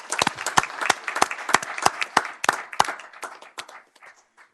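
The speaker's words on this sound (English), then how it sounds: "Aaron, applause." Applause from the audience at a city council meeting, a burst of many hands clapping that thins out toward the end.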